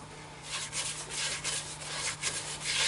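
Sandpaper rubs against a turned maple wood bowl in repeated back-and-forth strokes, a close, soft, gritty hiss with a faint steady hum underneath.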